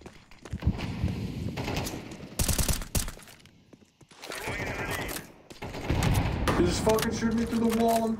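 Gunfire in Counter-Strike 2 competitive Premier play on the Ancient map, with bursts of automatic shots and sharp rifle cracks scattered across the clip, mixed with game sounds and a player's voice talking over them.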